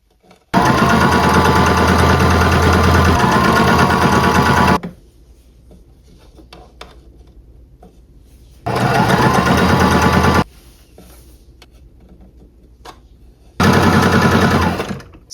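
Sewing machine running a straight stitch across a rolled, twice-folded hem on thrifted clothing fabric: three loud, steady whirring runs, separated by quieter pauses.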